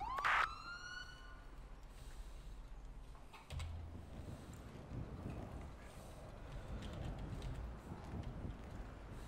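An ambulance siren in a police roleplay video game gives a short, sharp rising wail at the very start, then fades into a low engine rumble and faint background noise.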